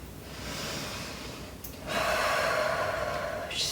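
Breathing of a person holding a wide-legged forward fold during a vinyasa yoga session: a soft inhale followed by a longer, louder airy exhale, close and quiet, with no talking.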